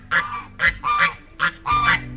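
Protective geese on a farm honk in agitated bursts, five or six loud nasal calls in quick succession, close by with brief gaps between them.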